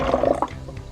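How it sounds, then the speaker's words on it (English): Liquid poured from a spouted measuring cup into a bottle, a short, close gurgling stream that fills the moment with no voices. "I'm using a measuring cup that has a little spout, so it's going to help me pour this into my bottle."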